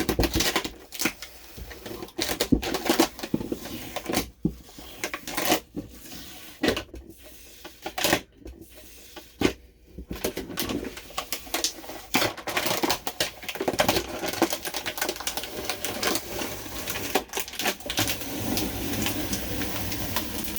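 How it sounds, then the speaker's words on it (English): Tile being peeled off an RV wall beside the sink during a remodel, a dense run of crackling, tearing and snapping bursts that continues close and fairly loud throughout with no talk. "So this is just peeling right off."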